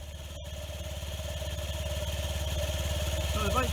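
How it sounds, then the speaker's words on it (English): A Honda Zoomer scooter engine with a new exhaust idles steadily with a low, even putter that slowly grows a little louder, no voices present. "Now we'll just start it up and see how it sounds with the new exhaust on."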